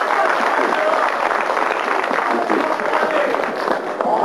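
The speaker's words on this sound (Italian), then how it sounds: "un altro applauso." An audience applauds at a live music evening, a dense wash of clapping held steady and fairly loud for several seconds, with voices mixed into it.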